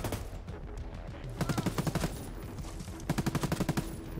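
Two bursts of rapid automatic gunfire from the video game Ghost Recon Breakpoint, each about half a second of tightly spaced loud shots over a steady background of game ambience, with no talking.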